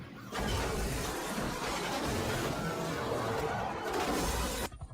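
Car crash in a film chase scene on a highway, with gunfire around it: a loud, dense burst of shattering impact noise that runs for several seconds before cutting off abruptly.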